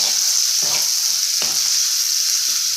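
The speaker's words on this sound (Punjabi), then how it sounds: "ਤਾਂ ਕਿ ਜਿਹੜੇ ਆਪਣੇ ਪਿਆਜ਼ ਨੇ ਟਮਾਟਰ ਨੇ ਉਹ ਚੰਗੀ ਤਰ੍ਹਾਂ ਭੁੱਜ ਜਾਣ" Onions and tomatoes fry with salt, garam masala, red chili and turmeric in a pan for an eggplant bharta, giving a bright, continuous sizzle with a couple of scraping stirs breaking through.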